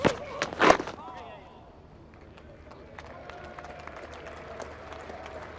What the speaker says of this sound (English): Another cheer goes up as Middlesex lead by 1.